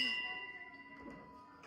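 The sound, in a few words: service bell rung once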